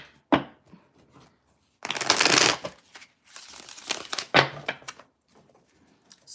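Tarot cards are shuffled in several quick riffling bursts, close and crisp, separated by brief pauses and light handling sounds.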